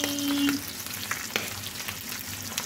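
Dried tamban fish fries in hot oil with a steady sizzle and scattered sharp splattering pops, close up, with a brief tonal hum near the start.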